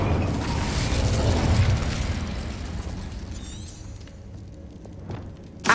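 A Confringo spell blast in Hogwarts Legacy, heard as a sustained rumbling explosive roar that slowly fades, with a faint crackle and a sharp pop at the very end.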